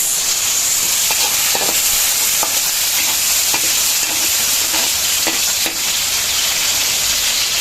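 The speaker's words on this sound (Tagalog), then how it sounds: "Nilalagay na po mga kabayabas yung kamatis." Tomatoes tumble into a hot frying pan and get stirred, a steady loud sizzle running throughout with scattered scraping clicks of the spoon against the pan.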